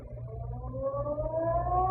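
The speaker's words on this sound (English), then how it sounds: "just as the ferry building siren was announcing 8 o'clock to downtown San Francisco" The Ferry Building siren in downtown San Francisco wails as a 1949 radio drama effect, a single rising tone climbing steadily and growing louder over nearly two seconds, alone with no voices.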